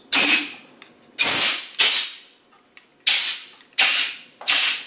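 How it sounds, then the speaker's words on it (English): Six short, close puffs of breath blown lightly into the spring support holes of a Land Rover Defender LT85 gearbox casing to clear dirt. Each puff starts sharply and fades, with no talking. "I'm just going to blow very lightly, put my finger across the hole just to make sure there's no dirt and debris in there"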